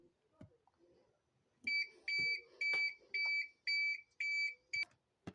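Belarus emergency alert tone: six evenly spaced bursts of a bright, steady electronic two-tone beep, each about half a second long with short gaps, fairly clear against faint background knocks.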